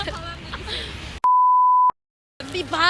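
A single steady censor beep tone lasting under a second cuts into speech, followed by a brief silence before talking resumes.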